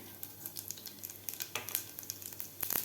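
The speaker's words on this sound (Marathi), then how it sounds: "तेल आपलं व्यवस्थित गरम झालेलं आहे. यामध्ये घालायची आपल्याला मोहरी" Mustard seeds and cumin in two spoons of hot oil in a pan, a steady soft sizzle with scattered sharp pops and crackles, close and fairly quiet, with no voices.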